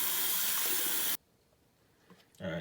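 Hot water pours hard from a tap while reef tank equipment is being cleaned, a loud steady rush that cuts off abruptly, followed by quiet and a few small knocks before water splashes again.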